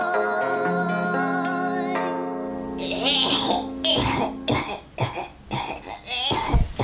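After a sustained tonal chord fades, a child coughs in a series of sharp, raspy bursts, some close together and some spaced out, close and fairly loud.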